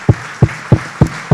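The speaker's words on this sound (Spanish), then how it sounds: "Le damos un aplauso al Señor por su palabra." A church congregation claps in slow, even unison, with four sharp, close claps evenly spaced at an unhurried rhythm during a worship service.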